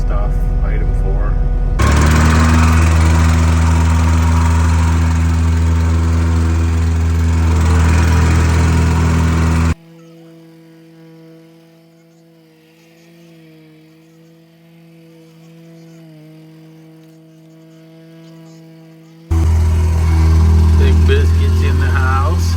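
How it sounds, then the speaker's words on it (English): A plate compactor tamps a first lift of crushed gravel inside a house foundation, its engine a loud, steady, close drone that cuts out for about ten seconds of quieter talk before roaring back. "Chris is tamping the inside first lift."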